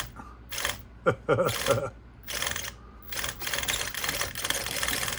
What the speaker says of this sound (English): Look how fast that steering is.